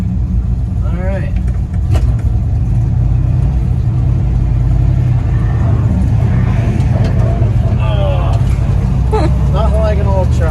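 An old 1956 Chevy truck, a gasser build, creeps along in granny gear with a constant low engine rumble, while a nearby voice talks intermittently over it.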